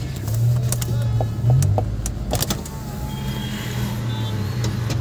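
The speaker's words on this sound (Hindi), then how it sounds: "अभी मैं आपको शीशे रोक करके गाड़ी की आवाज़ सुनवाऊंगा कि किस तरीके की आवाज़ है वो।" A car running, heard from inside the cabin with the windows closed: a steady low engine hum and road rumble with a few light clicks and knocks.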